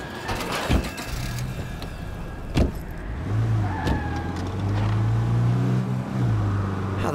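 A car drives in the video game State of Decay 2, its engine starting up and then revving and humming steadily at close range, with a few knocks and thumps early on.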